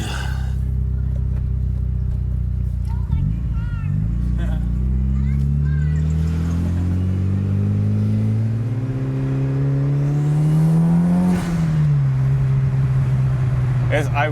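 A Mitsubishi Evo 8 fitted with a new exhaust revs hard and loud, its engine note rising steadily over several seconds, dipping briefly, then settling into a lower drone, while people talk over it.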